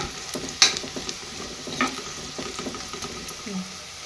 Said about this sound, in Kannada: ನೋಡ್ರಿ ಹಗುರ್ಕ ಉಳ್ಳಾಗಡ್ಡೆ ಫ್ರೈ ಹಾಕತ್ತವ್ರಿ